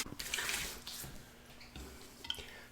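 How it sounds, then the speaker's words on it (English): Cold tap water running and splashing as a face is rinsed after a shave with a copper open-comb safety razor, a close, continuous wet rush that swells and eases with cupped-hand splashes. "A final cold water rinse."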